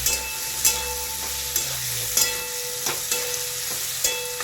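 Eggplant and potatoes sauté in a pan for a spicy village-style curry, with a low sizzle steadily underneath and sharp, regular scrapes of a spoon stirring, close and clear.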